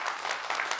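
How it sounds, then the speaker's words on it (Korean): An audience claps at a talk by a hamburger shop owner, a short burst of dense, even applause from a seated crowd with no speech over it. "박수 좀 한번 쳐주십시오."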